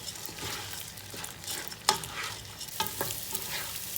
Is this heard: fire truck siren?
no